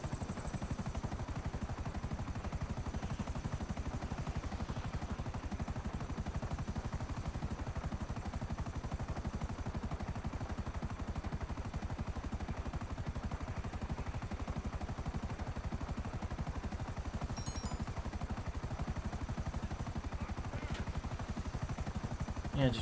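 A plane flying in a video game gives a steady, pulsing propeller-like engine drone that stays constant and moderately loud throughout.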